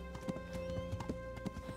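Horse trotting in the medieval video game Kingdom Come: Deliverance: a steady run of hoof clip-clops, fairly close and even, over a constant low hum with faint tonal background music.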